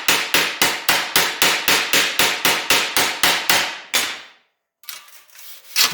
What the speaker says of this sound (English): Anytime you hit the metal directly on, you're stretching it.